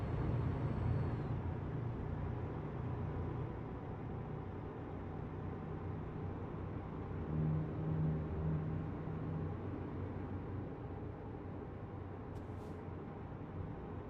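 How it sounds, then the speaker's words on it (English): Steady drone of a Kenworth T680 truck engine in American Truck Simulator, a continuous low rumble with a faint turbo whine rising briefly near the middle, cruising evenly throughout. "turbo line sounds pretty good in this little rig"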